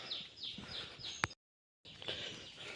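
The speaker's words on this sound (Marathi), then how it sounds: "पक्ष्यांचं किलबिलेट आहे." Birds chirp on an open hillside after a steep climb, a run of quick high repeated calls at moderate distance, broken by a brief sharp click and a short gap of silence.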